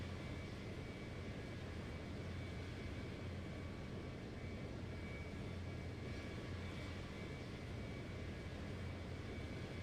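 A Boeing 737-800 taxis toward the runway in Flight Simulator X, its engines a faint, even jet drone that holds steady throughout with no voices.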